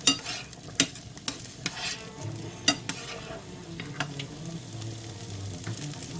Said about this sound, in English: Well, I stir fried it a little.